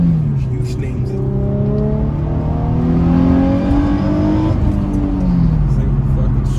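An Infiniti G35 with aftermarket intake and exhaust revs hard on a night mountain drive, its engine note climbing and falling through gears in a loud, rising drone heard from inside the car, with someone talking over it.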